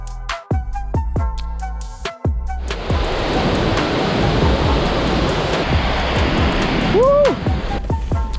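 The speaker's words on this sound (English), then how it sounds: "it is the only waterfall in the world located in a city center" Jajce waterfall in a Bosnian city centre roars as a broad, loud rush of falling water, coming in after a few seconds of sharp clicks and holding steady to the end.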